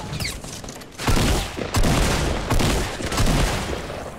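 Gunfire in Fortnite, a dense fusillade of sharp cracks and booms with several loud bursts spread across the moment, fairly close and forceful, with no one talking over it.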